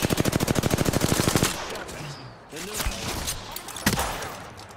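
Ballistic's smart bullets fire in a rapid burst of loud automatic gunfire in a video game, then give way to scattered impacts, whooshes and a sharp crack, with voice-like sound mixed in.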